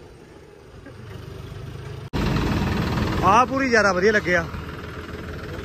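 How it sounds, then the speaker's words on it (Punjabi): A John Deere 5050D tractor engine idles with a steady low rumble, overlaid by someone talking loudly for most of the stretch. "ਇਹ ਇੰਜਣ ਬੋਲਦਾ ਹੈ ਨਾ ਸਾਡਾ"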